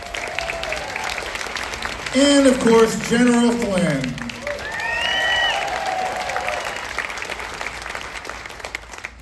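A raucous crowd at an outdoor live event in Texas claps and cheers for several seconds, loud and close, rising and then tapering off, while someone speaking over a microphone talks over the applause.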